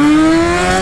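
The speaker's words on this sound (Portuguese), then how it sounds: "Eu sei que o ronco da moto é um pouco alto" A motorcycle engine, an XJ, roars loud and close in a steady, droning tone that holds evenly through the moment.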